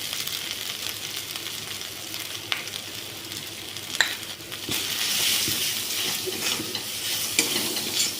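Soybean chunks with cumin powder, ginger paste and turmeric are stirred and fried in a pan, a loud steady sizzle with spoon scrapes and a few sharp knocks, swelling into a brighter hiss in the second half.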